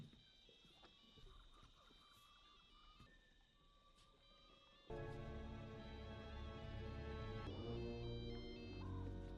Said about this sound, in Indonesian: mereka pun kembali mendengar suara telepon satelit milik si Paul